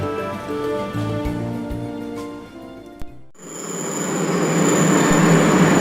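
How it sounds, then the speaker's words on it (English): Shanghai underground subway train: a whining electric motor with tonal harmonics, a sharp knock, then a loud, roaring rush of wheels and air building and sustained as the carriage runs through the tunnel, with no voices. "I took the underground train to the city centre"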